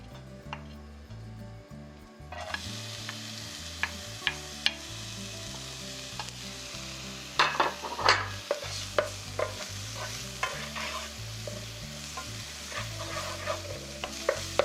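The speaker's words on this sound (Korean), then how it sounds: "넣어주시고 다진 양파와 마늘을 절반씩 넣어 볶아주세요" Steady sizzling of chopped onion and garlic sautéing in olive oil in a pan for tomato sauce, with a utensil stirring and tapping against it now and then, close and continuous.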